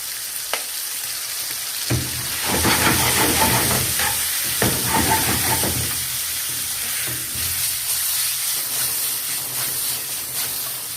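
Liver sizzles and fries in oil in a pan with garlic and pepper, a steady close hiss with bursts of crackle and stirring clatter throughout, no talk.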